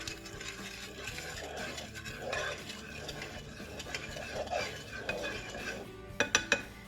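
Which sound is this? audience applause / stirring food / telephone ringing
stirring food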